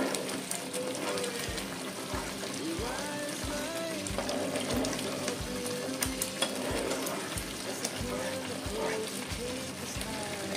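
A mixed vegetable peel paste fries on a high gas flame with a continuous sizzling crackle and regular scraping strokes of a spatula stirring it in the pan.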